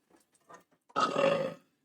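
A single loud, close burp lasting about half a second, preceded by a few faint breaths and mouth noises.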